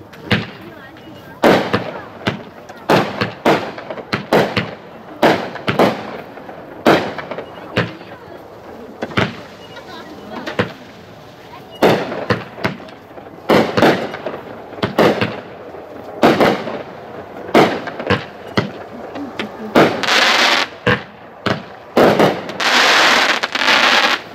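A Lew's Log Splitter 16-shot, 200-gram firework cake fires a rapid series of loud, sharp bangs, the shots spaced irregularly and ending in a denser run of crackling bursts.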